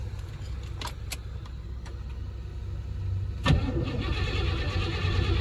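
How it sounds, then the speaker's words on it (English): A 1980 Trans Am Turbo, awakened after 18 years of sitting, cranks over steadily with a continuous low starter churn, louder near the end, and a few sharp clicks and clanks early on. "Let's see if this thing wants to spin over."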